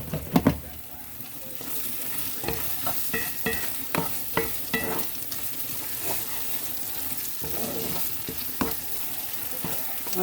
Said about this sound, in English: Tomato paste is in, and I'm just stir frying that